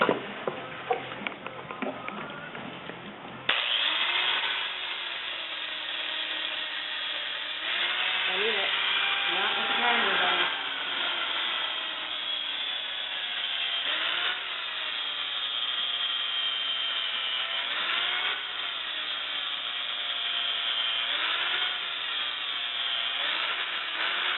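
A power sander grinding down a horse's hoof during natural hoofcare trimming, a steady close whirring grind running almost continuously with slight pitch swells as pressure on the hoof shifts, after a brief start.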